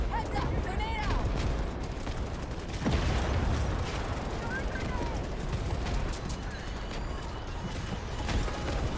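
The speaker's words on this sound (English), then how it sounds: "Heads up! Grenade out!" Video game battle with rapid bursts of gunfire and a heavy thump near the three-second mark, dense and continuous, with voices shouting over the clatter.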